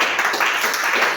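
A church congregation claps and cheers in praise of the Lord during a French-language service, a brief, dense burst of applause heard without talk.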